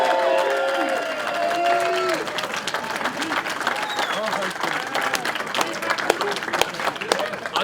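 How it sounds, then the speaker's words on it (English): A crowd at the final round of the 2022 South Florida Open disc golf tournament applauds steadily for the second-place finisher, a dense outdoor patter of clapping with voices and light cheering mixed in throughout. "And then a big round of applause"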